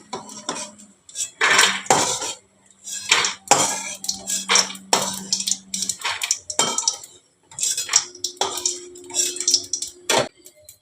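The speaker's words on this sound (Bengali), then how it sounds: "এবারে আমি ডালের বড়িগুলোকে উঠিয়ে দেবো।" Fried lentil dumplings (bori) lifted out of a pan, giving a series of sharp metallic scrapes and clinks of a utensil against the pan, repeated in irregular bursts with brief pauses, close and fairly loud with no talking.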